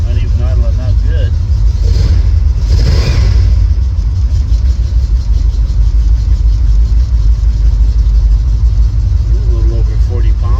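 A 1969 Chevelle SS engine idles with a loud, steady low rumble that runs nonstop close by, while people talk over it.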